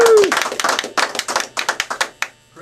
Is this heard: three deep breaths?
no